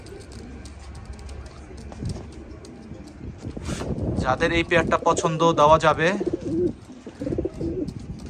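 Pigeons coo in low, throaty bursts, loudest through the middle, with someone talking over them and birds chirping faintly behind.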